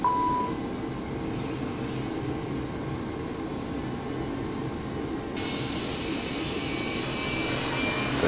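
Right aircraft engine starting in the FS2004 flight simulator, a steady broadband turbine roar with a rising whine joining partway through, no talk over it.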